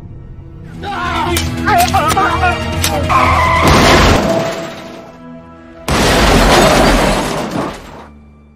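A car in a gangster film crashes and overturns: tires skid and screech, then crunching impacts and a second loud tumbling crash follow, with someone speaking over the opening.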